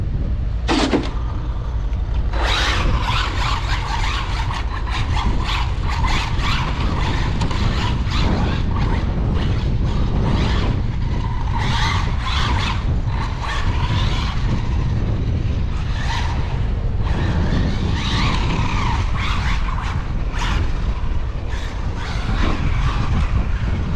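An HPI Maverick Quantum R Flux electric RC car spins donuts with front and rear diffs locked, giving a loud, continuous whirring motor drone mixed with gritty scrabbling and mechanical rattles, close and steady throughout.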